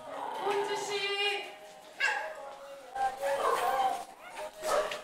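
Several dogs squabbling in a shared shelter space, with yips, whimpers and short barks coming in bursts, while a person speaks over the noise.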